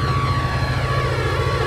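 Two freight locomotive engines in Trainz Simulator 3 drone heavily while hauling a long goods train, a loud, steady low rumble with no talk.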